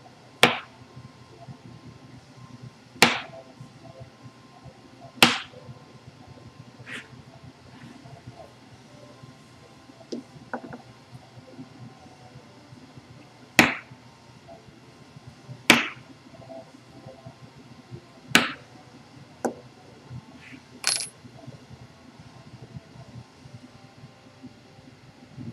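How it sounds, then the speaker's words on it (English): Leather for a tri-fold wallet is punched and slotted: sharp isolated strikes ring out every few seconds, crisp and close, separated by quiet pauses without speech. "We're going to punch the holes, cut the slots."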